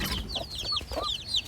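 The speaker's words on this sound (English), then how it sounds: "Look at the baby chicks." Backyard chickens cluck close by while baby chicks peep in high, rapid chirps, a busy overlapping flock chatter with no talking.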